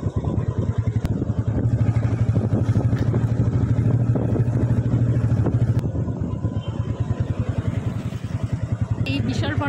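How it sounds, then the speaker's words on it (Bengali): Two more motorbikes from a riding group come up from behind on a road near a railway gate. Their engines drone and pulse continuously, fairly loud, with voices mixed in. "পেছনে আমাদের গ্রুপের বাকি দুটো বাইক আসছে।"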